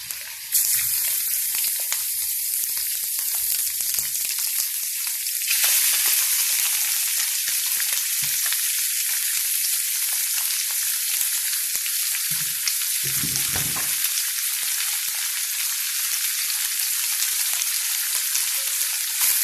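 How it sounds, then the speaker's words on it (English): Beef sizzling and frying in a hot pan for Mongolian beef, a steady loud hiss with crackling that intensifies as the meat goes in, with brief stirring scrapes near the end. "I'm going to add beef into it."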